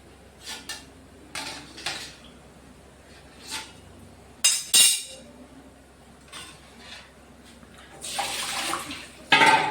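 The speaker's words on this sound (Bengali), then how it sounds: "এখন আমি ঠান্ডা জল দিয়ে ধুয়ে নেব।" Utensils are rinsed in cold water under a running kitchen tap, with short gushes of water and scattered clinks of metal dishes, nearby, with no one speaking.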